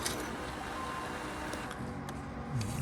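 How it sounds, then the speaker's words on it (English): Laser printer feeding and printing on transparent foil, a steady whirring mechanical drone with faint ticks, close and continuous with no talk. "let's try printing it on a laser printer with some transparent foil"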